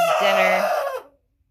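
A 12- to 14-week-old American Bresse cockerel lets out a single short, loud, close crow that cuts off after about a second.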